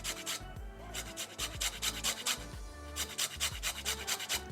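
A lime being zested for a salmon and cream cheese appetizer gives a rapid, close rasping scrape in quick repeated strokes, fairly quiet, with no talking.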